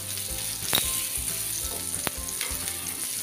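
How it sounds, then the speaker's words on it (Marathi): Surmai kingfish steaks fry in a pan over a low flame, giving a steady quiet sizzle with a few sharp crackles and pops, and no talking. "हे आता मंद आचर आपल्याला एक 5 मिनिटासाठी ही सुरमई आहे फ्राय करून घ्यायची"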